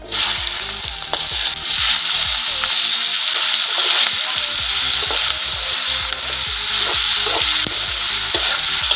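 Chopped onion and tomato sizzle loudly in hot oil in a wok, with steady crackling and frequent stirring scrapes throughout, close and without talk.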